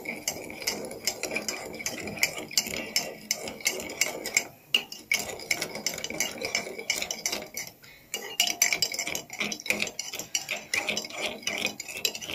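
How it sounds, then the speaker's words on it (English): A spoon stirs coffee and sugar in a cup, sharp rapid clinks and scrapes against the sides repeating unevenly and close up, with a couple of brief pauses. "Then I stir."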